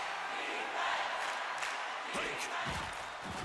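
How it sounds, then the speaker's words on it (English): A stadium crowd roars and clamors in a football video game, a dense, sustained wash of cheering that swells and surges, with some brief sharper bursts near the end. "the crowd is on their feet, clamoring for the defense."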